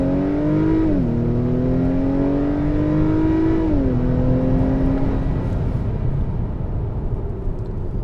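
A 2021 Acura TLX A-Spec accelerating hard from inside the cabin, the engine note climbing steadily through two quick upshifts, loud and droning, then easing off toward the end with no talking.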